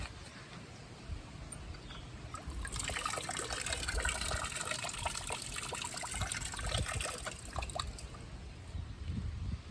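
Water runs and splashes at a trail shoe washing station on a Mount Tantalus hike in Honolulu, starting as a faint trickle, swelling to a steady gush for several seconds, then easing off, nearby with no talking.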